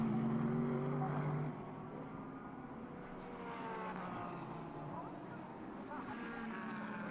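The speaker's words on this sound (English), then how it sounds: "There's the Max Racing Mercedes coming through the corner in third position." Max Racing Mercedes GT race car coming through a corner at Fuji during a Japan Cup race, engine note rising and fading as it passes at moderate distance, with a commentator talking over it.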